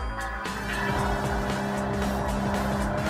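A car engine in Gran Turismo 7 drones and revs steadily, with tire noise rising and falling, loud and close, and no one talking.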